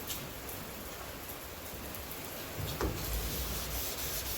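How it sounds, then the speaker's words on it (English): Steady rain patters on a surface, a dense continuous hiss with a few louder drops, close and unbroken throughout. "Rain, rain, rain."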